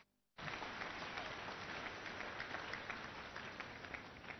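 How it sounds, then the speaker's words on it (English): A church crowd at a Sunday service claps together, a sudden onset of broad, sustained applause that stays full and even to the end. "Once again, let's clap for wonderful Jesus Christ."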